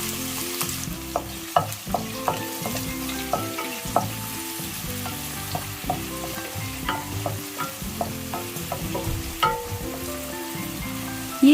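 Onions, green chillies and curry leaves sizzle in hot oil with whole spices for an egg masala, a steady frying crackle broken by repeated scraping and stirring strokes of a spatula in the pan.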